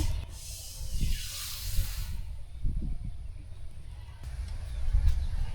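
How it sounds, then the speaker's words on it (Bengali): Hot dry-roasted mung dal tipped from the pan into water gives a broad hiss that swells over the first two seconds and then fades, with low thumps and bumps from the pot underneath. "পানির মধ্যে দিয়ে দিব ডালটা"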